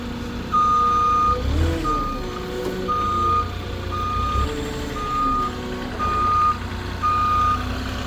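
A soil delivery truck's reversing alarm beeps steadily in a regular, repeating rhythm over a low rumbling engine, fairly close, with no talking.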